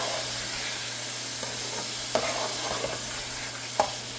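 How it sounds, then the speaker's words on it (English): Ginger garlic paste and spices stirred in a hot pan for a keema aloo curry of ground beef and potato: a steady, loud sizzle of frying with occasional scraping clinks of the spoon against the pan, with no talk. "this is the ginger garlic paste. Just mix it all over."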